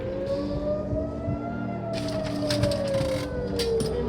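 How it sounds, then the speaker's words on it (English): A wailing air raid siren drones steadily with a slow rising and falling pitch, some clattering and noise in the foreground. "We had sirens multiple times, had to run into bunkers."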